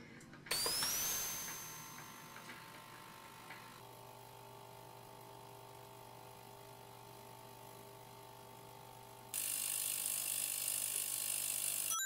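An ultrasonic cleaner cleaning keyboard switch parts drones close by with a steady electrical hum and constant tonal buzz, shifting to a harsher, brighter hiss near the end.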